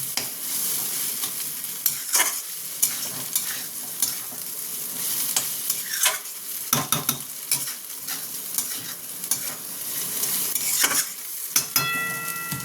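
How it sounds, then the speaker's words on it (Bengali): A vegetable bread chop mixture fries in a pan, with a constant sizzle broken by repeated scraping and clinking of a spatula stirring it, close and fairly loud. "আমি এটা ভালো মতন ভেজে নিই।"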